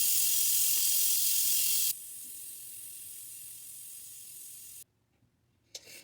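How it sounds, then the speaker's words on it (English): Instant Pot venting pressure after cooking Cajun-style boiled peanuts: a loud, steady broadband hiss that drops sharply in level partway through, continues more softly, then cuts off into near silence with a small trailing noise. "There's a little pressure that has to be released"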